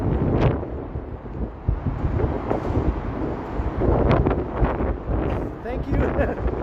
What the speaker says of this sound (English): You'll see how windy it is here in a second.